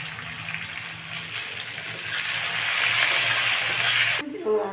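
Sliced onions tossed into hot oil already crackling with cumin and dried chillies, a steady, fairly loud hiss and sizzle that swells midway, with talk in the background.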